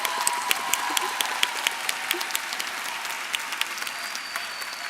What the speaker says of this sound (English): Yes, that's applause worthy.